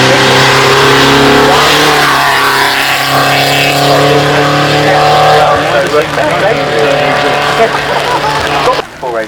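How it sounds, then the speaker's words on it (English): A Range Rover with a 3.9-litre turbocharged V8 accelerates up the Shelsley Walsh hill climb, its engine note rising and then fading as it passes, loud and near, with a commentator talking over it. "This Range Rover, absolutely awesome. Sounds fantastic."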